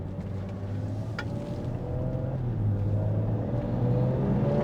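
A BMW 335i, restored after fire damage, accelerating on the road: a steady engine drone rises gradually in pitch and loudness as the car pulls, heard from inside without talk.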